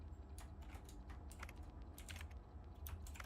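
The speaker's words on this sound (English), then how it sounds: "I like the keyboard noises as you're typing your name in." Soft keyboard clicking while a player enters a name in a video game, irregular quick keystrokes clustering in bursts, faint and alone.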